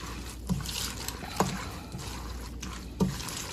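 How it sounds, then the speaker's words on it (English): Macaroni and cheese being stirred in a pot, giving soft wet sloshing and scraping with a few brief clinks against the pot, fairly close and quiet. "I'm gonna give this a stir too."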